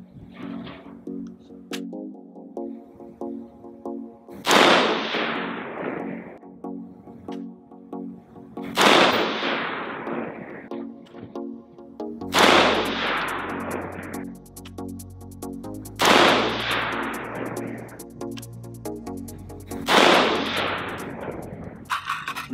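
Smith & Wesson M&P Sport II AR-15 rifle firing match ammunition, five sharp, loud single shots spaced a few seconds apart, each with a ringing decay, over a steady background hum.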